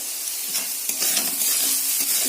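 Spatula scraping and stirring fried food in a kadai with a steady sizzle, salt just added, continuous close scratchy strokes with no voices.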